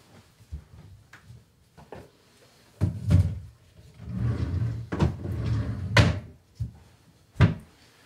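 A bedside table door in a patient's room is opened and closed several times, giving sharp wooden knocks and clunks with short scraping handling noises between them.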